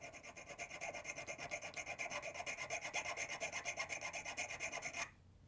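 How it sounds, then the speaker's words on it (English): A metal file cuts notches into a ring made from a coin, using the end of the file, with fast, even rasping strokes close up that stop abruptly near the end. "Now, I'm using the end of the file because I don't want to make the notch too large"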